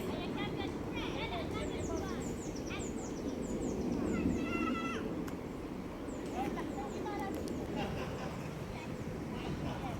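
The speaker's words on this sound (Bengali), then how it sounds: "অসংখ্য হাঁস পুরো লেকটা জুড়ে অনেক হাঁস" Many ducks call and honk across an open park lake in Belgium, a steady chorus of quacks and squawks with people talking nearby throughout.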